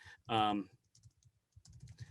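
Soft typing on a computer keyboard, a scatter of light key taps near the mic, following a short spoken syllable.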